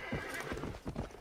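Horse hooves clip-clop in a short burst and a horse whinnies in the Red Dead Redemption video game, set against a steady background hum.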